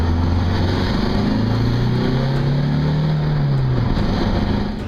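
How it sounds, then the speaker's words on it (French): A Peugeot RCZ diesel race car's turbocharged engine, tuned to 200 horsepower, drones steadily close by with a muffled sound, its low pitch rising slowly and falling back, with constant background rumble. "Le bruit feutré surprend lorsque l'on n'est pas habitué à un diesel de course."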